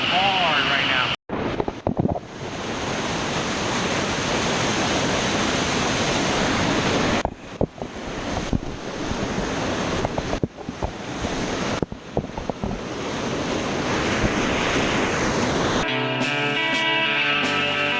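Carr Canyon waterfall pours down hard close by, a loud, continuous rushing roar broken by brief gaps and gusty microphone buffeting before it cuts to music at the end.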